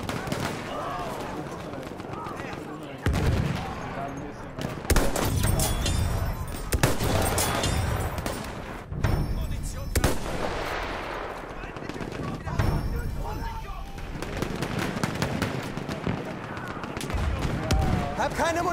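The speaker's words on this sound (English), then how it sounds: "Feindliches MG!" Enemy machine gun fire rattles through a chaotic video game battlefield, with repeated bursts of gunshots over continuous combat noise and shouted voices throughout.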